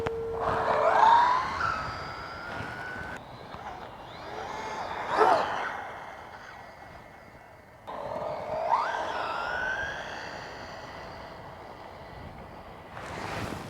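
A WLtoys 124017 RC car makes high, whining motor passes at full throttle, rising and falling as it nears and pulls away, with brief quieter gaps between runs.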